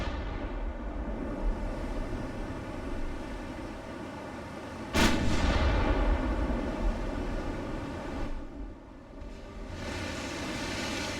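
Naval guns firing shells in Ultimate Admiral: Dreadnoughts, a steady rumble of battle noise with one loud sharp blast near the middle, followed by more booming fire.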